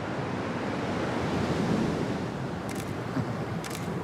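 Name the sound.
ocean waves surfing in Fiji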